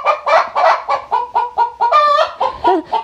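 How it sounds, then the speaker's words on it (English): A hen clucks loudly and insistently after laying an egg in her coop, a rapid series of close, rhythmic squawking calls that builds toward a drawn-out cackle. "Excuse my chicken, she's very excited that she laid an egg."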